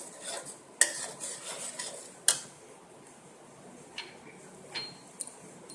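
A spoon stirs cashew pieces into thick milk rabri in a metal pot, with a few sharp clinks against the rim and soft scraping between them, close and fairly quiet.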